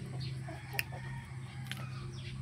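Plymouth Rock and Rhode Island Red hens cluck softly and intermittently in a backyard coop, with a steady low hum and faint rustling underneath.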